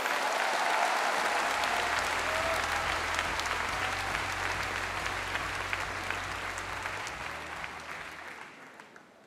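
A convention hall audience at a Minecraft panel breaks into a long, dense round of applause that holds steady, with a low musical drone underneath, then gradually thins and fades near the end.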